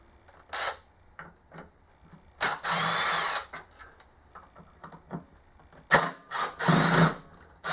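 Phillips head screws are backed out of the seat hinge assembly of a 1990 Ford Bronco II with a power driver, in short close whirring bursts separated by pauses and small clicks.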